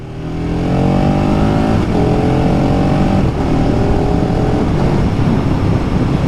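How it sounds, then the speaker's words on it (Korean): A liter-class motorcycle accelerates hard, its engine note climbing through several quick clutchless quickshifter upshifts, each marked by a brief dip before the loud, steady revving rises again. "보시면 클러치 안 잡고 변속이 됩니다"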